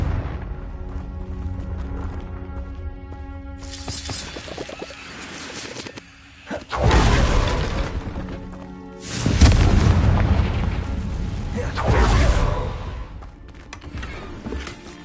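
Confringo spell explosions from Hogwarts Legacy go off as several loud, deep booms with rumbling tails, separated by quieter stretches of game ambience.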